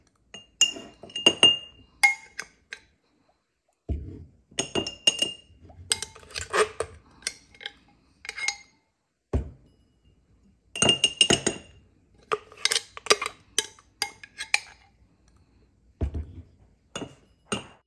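Ingredients dropped into a glass jar, with repeated bright glass clinks and taps in irregular bursts and pauses, close and clear with no voices.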